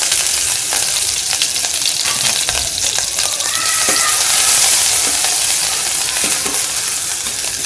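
Cumin, mustard seeds and chopped ginger fry in hot oil with a loud, continuous crackling sizzle, broken by sharp popping spatters and the occasional scrape of a stirring spoon. No one speaks.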